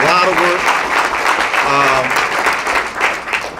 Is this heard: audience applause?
yes